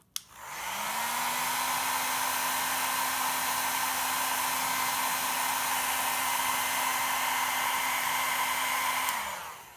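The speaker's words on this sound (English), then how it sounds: "I'm gonna use the hairdryer to warm the area until I feel a little zap" A hair dryer blows steadily and loudly for nearly ten seconds, a constant whooshing roar with a low motor hum, switching on and off at the ends.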